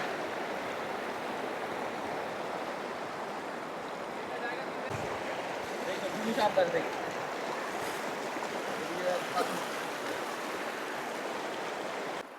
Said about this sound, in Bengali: পানির শব্দ দারুণ লাগতেছে।